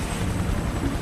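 A Super Puma helicopter serving North Sea oil rigs flies close by, a loud, continuous rotor and engine roar with a rough, pulsing texture.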